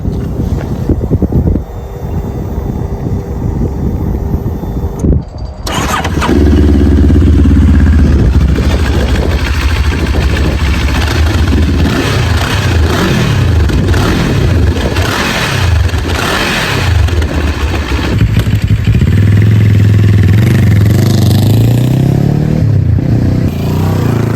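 A Moto Morini X-Cape 700 motorcycle engine rumbles steadily at idle with a deep, throaty exhaust note with dB killer fitted, blips of the throttle rising and falling, with wind buffeting the microphone.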